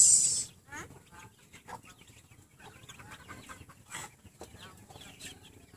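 Texas breed chickens in a farmyard, with a rooster clucking in short, scattered bursts close by over a low, busy background of the flock.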